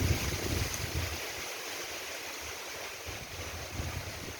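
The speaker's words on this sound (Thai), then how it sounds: "ปีนี้เป็นไรก็ไม่รู้ลมมันแรงเนาะ" Strong wind roars in a garden of tall plants, a broad rushing noise with gusts that swell at the start and again near the end, loud and continuous with no voices.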